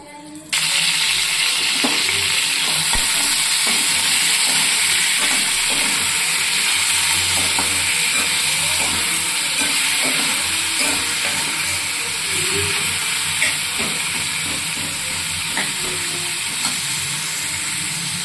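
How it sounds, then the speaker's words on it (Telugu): Tomato, onion and tamarind frying in oil in a kadai, a steady close sizzle and hiss with occasional stirring scrapes running throughout, no talking. "ఇదే బాండీల్లో కొంచెం ఆయిల్ వేసుకొని టొమాటో ఆనియన్ చింతపండు వేసుకుందాం"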